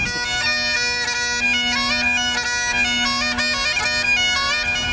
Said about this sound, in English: And then the melody pipe is called a chanter